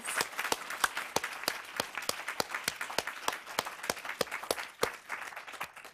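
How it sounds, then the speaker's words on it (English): Audience applause at a conference closing session, heard as a small group of distinct, evenly spaced claps in a steady rhythm, close and moderately loud with no talking. "Thelma Cox and Lori Gregg, get a huge round of applause."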